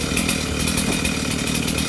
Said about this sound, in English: I got the chainsaw warmed up